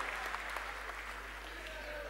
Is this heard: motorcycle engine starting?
no